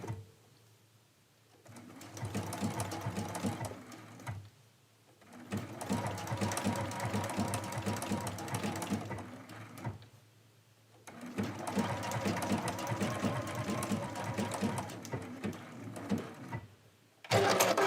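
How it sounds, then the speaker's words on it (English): Sewing machine stitches down the corner of a medallion mystery quilt in two long steady runs with a short pause between, a loud close mechanical hum and rapid needle chatter. "we're going to do one stitch right at this corner and start coming down the other side"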